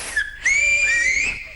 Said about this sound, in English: can I whistle on this channel?